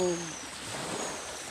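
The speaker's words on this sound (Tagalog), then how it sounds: "Gasugod nagmauton ang dagat guys." Rough sea surf rolls onto a beach near homes as a typhoon approaches, a steady broadband wash of waves with a brief voice at the very start.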